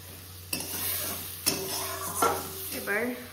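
Water goes into hot oil with green chillies in a pan. Sharp sizzling bursts break out close up over a low background hum, mixed with the clink and scrape of a utensil stirring.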